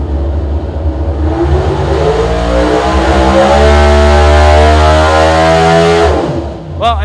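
Pro Stock drag racing engine running on a dyno at the NHRA Indy event, a loud sustained roar whose pitch climbs steadily as it revs up, holding at high rpm before cutting off abruptly near the end.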